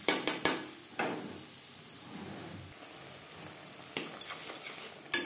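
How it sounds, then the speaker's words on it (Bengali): A spice paste of ground tomato, ginger and green chili dropped into hot oil after bay leaves: sharp spattering bursts and clatters, then a softer ongoing sizzle with a few more loud pops, close by. "তেজপাতা ভেজে নেওয়ার পর দিয়ে দেবো মশলার পেস্ট।"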